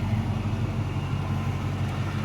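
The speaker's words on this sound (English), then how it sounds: "The engine's fairly quiet. The supercharger, you can hear whine a little bit." Idling 2006 Chrysler 300C SRT8 with a supercharged engine, a steady low rumble with a faint supercharger whine above it, continuous and fairly quiet.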